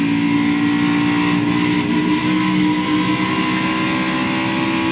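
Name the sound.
NASCAR stock car engine as driver lifts off throttle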